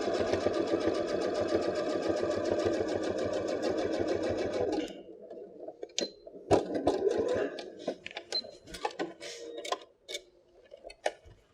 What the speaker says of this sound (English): you can just very quickly top stitch to hold that seam closed